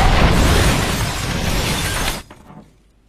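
Bomb blast in an action film scene, a loud dense crash of breaking debris that fills the first two seconds, then cuts off abruptly into a brief fading rumble.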